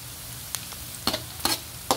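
Garlic and onion sautéing in a pan for pork giniling, a faint steady sizzle with a few brief stirring scrapes spaced through it.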